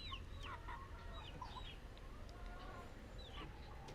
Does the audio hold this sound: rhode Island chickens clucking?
yes